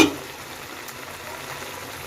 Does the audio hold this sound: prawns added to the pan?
yes